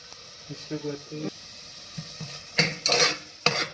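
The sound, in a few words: stirring and sautéing tomatoes in a pan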